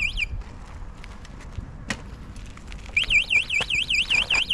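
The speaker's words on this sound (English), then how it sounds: "Alarm's gone off." The anti-theft alarm on a DYU A5 folding e-bike goes off, a shrill, rapidly warbling siren repeating in quick cycles, loud and close, with a few clicks and handling knocks just before it starts.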